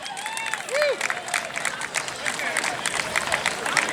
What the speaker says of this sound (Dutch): mag ik een fantastisch applaus voor de pleezangers van Oud-Geleen